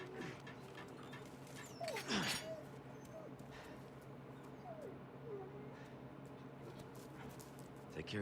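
A dog in Resident Evil 4 Remake whimpers and yips in a few brief, high whines, scattered across a steady ambient drone with occasional thumps and a louder burst of noise partway through.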